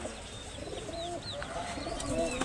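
Pigeons coo on a rooftop farm that also keeps chickens. Soft, repeated cooing calls come from nearby over a steady background hum.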